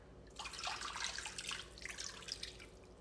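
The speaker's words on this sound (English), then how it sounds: "I'm gonna add 2 cups of water." Water from a measuring cup poured into a baking dish holding a beef roast, a steady splashing pour lasting a few seconds, close and moderately loud with no talking.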